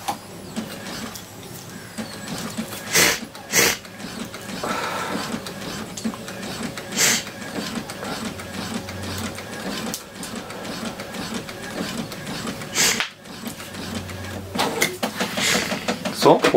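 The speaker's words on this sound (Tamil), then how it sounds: "சோ போட்டோ பிரிண்டிங் ஆயிருச்சு" A Brother inkjet printer with pigment ink prints a photo, whirring and clicking with sharp mechanical clunks every few seconds while a person talks over it.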